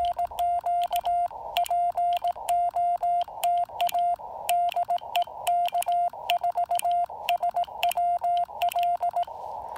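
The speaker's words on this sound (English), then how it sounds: "now I'm working him on CW" Morse code CW tones come from an amateur radio, likely a Yaesu FT-817ND, as a steady stream of short and long beeps at one pitch, keyed in quick clear rhythm with a faint hiss between characters.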